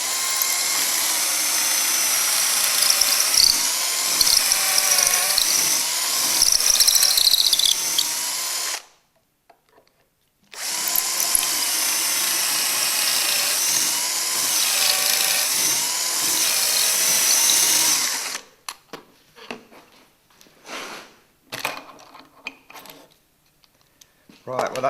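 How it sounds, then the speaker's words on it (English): A drill bores pocket holes through a UJK pocket hole jig, whining loudly in two long sustained bursts split by a brief silence, followed by quieter clicks and handling clatter. "that's my 2 holes drilled now"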